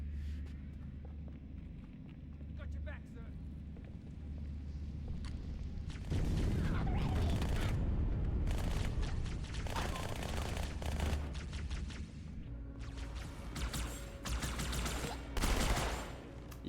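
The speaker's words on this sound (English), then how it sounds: "Yeah, the new SMG sounds amazing." Rapid bursts of SMG fire from Halo 2 crackle in repeated loud volleys after a quieter start, mixed with booms and footsteps.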